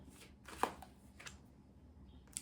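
Tarot cards are shuffled by hand, a few soft riffling rustles and a sharp card snap heard close up in an otherwise quiet room.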